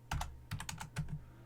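Several quick bursts of keystrokes on a computer keyboard as router EIGRP configuration commands are entered, close and clear, in short clusters with brief pauses between.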